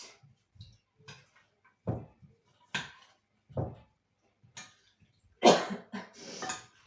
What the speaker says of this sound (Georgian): ეს პილპილის ბრალია მე რომ ახველებს